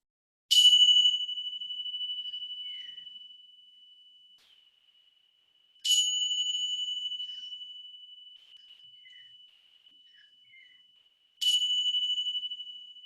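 A small meditation bell is struck three times during a yoga session, each bright chime ringing out and slowly fading over about five seconds in an otherwise silent room.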